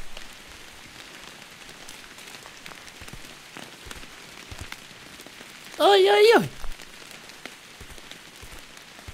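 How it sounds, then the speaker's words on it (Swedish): Steady soft patter of video game rain from Bear Simulator falls throughout, with a short high vocal exclamation partway through. "Och det regnar idag."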